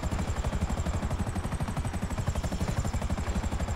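Rapid rhythmic rotor thumping of a helicopter in the video game GTA 5 Online, steady and continuous, fairly close, with a faint whine above the chopping blades.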